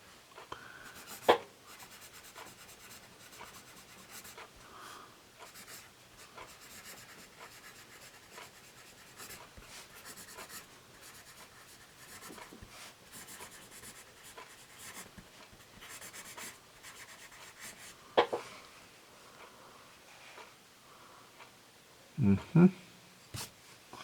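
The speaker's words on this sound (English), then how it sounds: "I'm going to do a little bit more writing with this 3B." Generals Semi Hex 3B drawing pencil writing on paper, continuous soft scratching and rubbing strokes heard up close for a long stretch, with a few louder knocks and handling bumps near the end.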